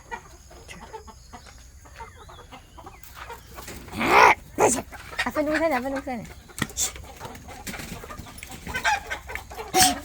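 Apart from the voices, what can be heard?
chickens clucking in coop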